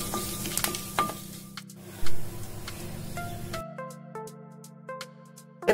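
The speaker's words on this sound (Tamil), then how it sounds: "கொஞ்சம் சீரகம், கொஞ்சம் வெந்தயம், ஒரு 10லேருந்து 12 மிளகு சேர்த்துட்டு ஒரு வாட்டி ஃப்ரை பண்ணிடலாம்" Cumin seeds, fenugreek and ten to twelve black peppercorns fry in hot oil with a close crackling sizzle and light stirring scrapes that drop off abruptly partway, leaving faint pops afterward.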